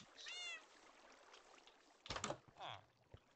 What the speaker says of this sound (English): Alright, cat. I'm gonna need you to move.